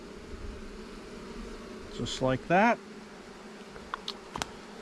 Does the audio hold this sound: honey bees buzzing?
yes